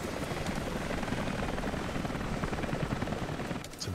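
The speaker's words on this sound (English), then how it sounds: "It's a big fucking helicopter." A helicopter's rotor thumps in a dense, continuous roar at moderate volume, steady throughout with no voices, in the video game Rise of the Tomb Raider.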